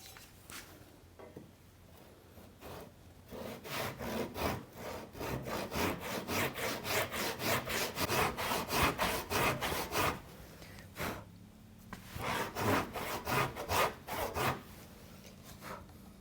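Wood for a shave horse rail is cut with a hand saw, giving rhythmic back-and-forth rasping strokes that build into a steady run, pause briefly, then resume, close and clear with no talking.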